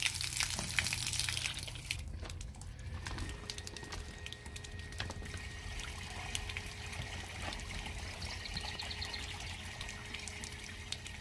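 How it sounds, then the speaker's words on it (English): Water rinses out an RV sewer drain hose at a dump station, a steady outdoor splashing and trickling wash that runs continuously at moderate, fairly distant level with a faint tonal hum underneath. "So now he's gonna just rinse this hose out"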